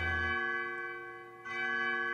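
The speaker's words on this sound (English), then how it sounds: "I still love the chimes. They sound, I swear, they sound different now." Chimes ring in the game Undertale, a sustained bell-like tone with rich harmonics that fades slightly and then strikes again near the end, clear and alone.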